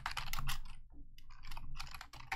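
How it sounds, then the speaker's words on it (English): Quick bursts of computer keyboard typing, close and clicky, with a brief pause before the keystrokes resume in rapid clusters; no talking. "Keyboard ASMR."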